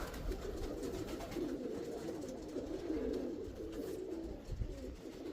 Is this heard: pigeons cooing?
yes